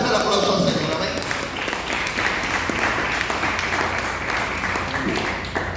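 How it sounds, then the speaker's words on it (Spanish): Church congregation applauding during an evangelical sermon, a steady, dense wash of clapping that carries through the whole stretch, with voices and crowd noise mixed in underneath. "Denle fuerte el aplauso al Señor."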